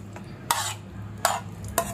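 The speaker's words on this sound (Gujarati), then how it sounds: "હવે આપણે આ જે કોબીનો વઘાર કરેલું છે એ આપણે આ બેટરમાં એડ કરી દેવાનું છે." Cabbage tempering being stirred into a batter in a bowl for a kids' tiffin snack, with three short scraping stirs of a spoon at an even pace over a low background hum.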